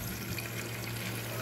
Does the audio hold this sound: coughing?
no